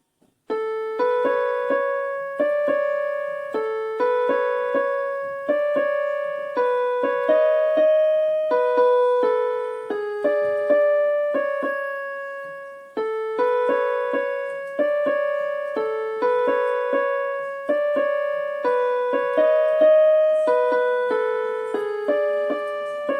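A solo piano plays a steady, repeating melody with chords, clear and close, continuing without pause and with no voices.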